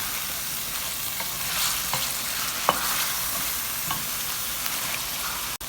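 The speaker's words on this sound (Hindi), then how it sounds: "थोड़ा सा हम लहसुन और ग्रीन चिली के साथ उसको भूनेंगे।" Mutton frying in a pan with garlic and green chili, a steady close sizzle with faint stirring scrapes and a few soft clicks, ending in a sharp knock, with no talking.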